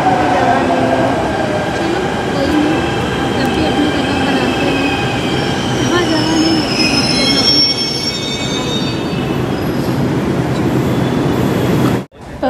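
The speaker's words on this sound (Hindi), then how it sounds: "मेट्रो हमारी आ गई।" A crowded Delhi metro train pulls into the station, its wheels squealing loudly with high, drawn-out metallic tones over a constant rumble before the sound cuts off abruptly near the end.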